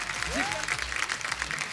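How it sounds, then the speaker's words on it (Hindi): A studio audience on a comedy show applauds steadily as the director Farhad Samji is welcomed on stage, a dense clapping wash with a host's voice over it. "फरहाद भाई के लिए जोरदार तालियां"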